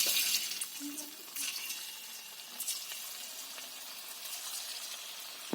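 Sweet pieces deep-frying in hot oil give a soft, continuous sizzle with occasional crackles and light clinks, fairly quiet and steady.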